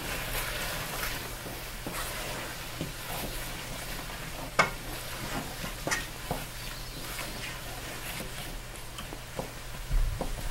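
Beans seasoned with chili fry in a pot, a soft continuous sizzle with occasional stirring scrapes and light knocks against the pot, fairly quiet and heard alone.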